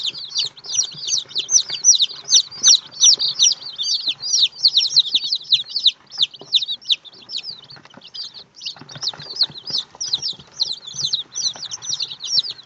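Chicks and little bantam chickens peep and chirp continuously, a dense, close flurry of high, quick calls with soft rustling underneath and no voices.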